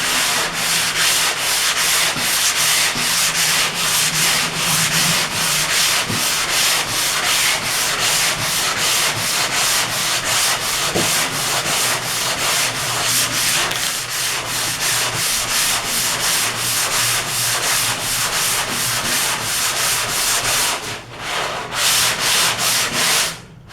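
Steady, loud abrasive rasping of body filler being sanded by hand on a car body panel in a crisscross pattern, continuous strokes up close with no talk and a brief pause near the end.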